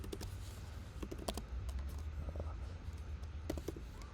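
Steady typing on a computer keyboard while editing song lyrics, with quick soft key clicks and a few louder taps over a low background hum, heard close and fairly quiet.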